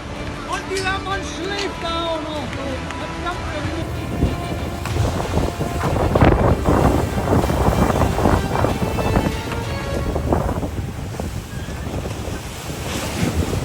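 Choppy sea with heavy waves and strong wind around a rolling blue ship, loud continuous surf wash and gusting wind noise with no pauses.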